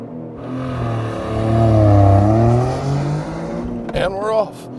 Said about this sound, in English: you could dump the clutch from redline and have perfect launches every time without smoking the clutch